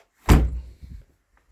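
The heavy door of an old FSO Syrena car is shut with a solid metallic thunk, followed by a short rattle as it settles; close and otherwise quiet.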